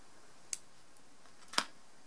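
Scissors snip crochet thread twice, a faint click about half a second in and a sharper snip near the end, each brief and isolated against quiet.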